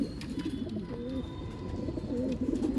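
Old-line pigeons in a Bangalore loft coo steadily in low, rolling calls over a busy background, close by and continuous, with no talk.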